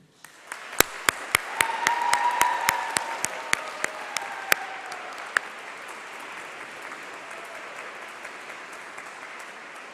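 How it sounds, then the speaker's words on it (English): A graduation ceremony audience bursts into applause that swells and then slowly fades, with a few sharp, close individual claps standing out over the crowd. "can I ask you to give a round of applause, a massive cheer, to say thank you to all of your supporters"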